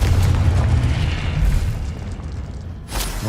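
A loud, booming Confringo spell explosion in Hogwarts Legacy, a heavy low rumble that rolls on and fades, followed by a sharp crackling burst near the end.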